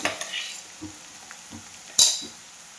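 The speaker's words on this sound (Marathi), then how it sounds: "ह्या मी ज्या मिरच्या घेतलेल्या आहेत ते आता तेलामध्ये टाकून घेतलेल्या आहेत आणि आता त्याही भाजून घेते" Green chillies fry in hot oil in a home kitchen, a soft steady sizzle with light stirring taps and one sharp metallic clink near the end, close by with no talk.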